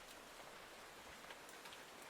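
Steady rain falling on a surface, a soft continuous hiss with scattered faint drop ticks, quiet and unbroken throughout.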